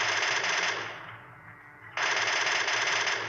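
Rapid automatic MK rifle fire in PUBG at Pochinki, a loud continuous burst that dips briefly and then resumes at full strength, with no talking.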